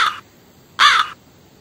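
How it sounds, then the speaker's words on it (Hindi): A crow gives two harsh caws, one short and one longer, close and clear against near silence. "कौआ काव काव करता है।"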